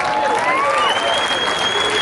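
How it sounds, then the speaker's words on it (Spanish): Audience applause at a Popo Bike 2022 mountain bike race award ceremony, a steady, dense wash of clapping held for two seconds with a faint whistle-like tone running above it. "¡Un aplauso!"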